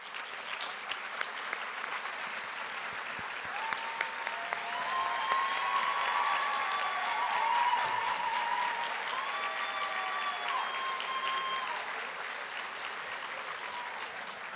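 Applause from a seated audience at a veterinary medicine white coat ceremony, a sustained crowd clapping that swells in the middle and continues steadily for the whole stretch, with faint voices mixed in.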